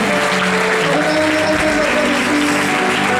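A church congregation applauding loudly during an evening worship service, dense sustained clapping mixed with ongoing music tones, steady and full throughout.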